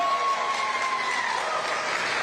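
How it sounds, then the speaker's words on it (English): Loud, steady applause from a youth fair crowd at the Berkeley County Youth Fair, cheering a showmanship grand champion; dense clapping fills the whole stretch with a faint voice tone riding on top. "Let's give her a big round of applause."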